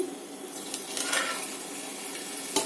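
A coconut sweet mixture sizzles in a pan on a high flame while it is stirred, making a continuous frying hiss with occasional scrapes and light taps of the utensil, close by and moderately loud.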